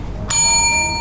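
A single bright ring of a small bell, clear and close, with its metallic tone lingering for under a second, sounded during a religious quiz.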